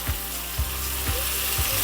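Steak fat rendering in a hot pan, a continuous crackling sizzle punctuated by four soft regular taps or scrapes, close and fairly loud with no talking.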